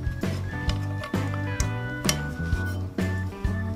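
A metal pan handle from a Mini Trangia camping cookset clinks against the non-stick pot in a series of sharp, ringing taps, each followed by a short metallic decay, close and fairly loud at an irregular rhythm.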